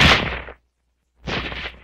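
A 1945 US Army bolt-action rifle fires two loud, sharp reports about a second apart, each with a quick decay, close and alone.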